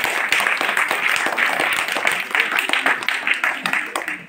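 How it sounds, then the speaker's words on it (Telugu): A group of students claps together at a school prize-giving, a dense, steady patter of many hands. It holds full and lively for several seconds in a room, with some voices mixed in. "చప్పట్లు కొట్టండి."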